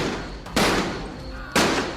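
Two loud, booming bursts of gunfire about a second apart, each decaying into a dense rumbling echo that fills the space between.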